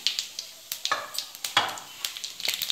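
Cumin and fennel seeds sizzle in a tablespoon of hot oil in a pan, a close, crackling spatter of sharp pops and hisses in quick irregular bursts, with no talking.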